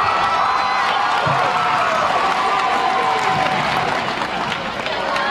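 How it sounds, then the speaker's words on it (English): A high school boys basketball crowd in the gym, Fairfax at MVU, roars and cheers in a steady dense wash while a commentator talks over the noise. "You can hear the crowd behind us loving this so far."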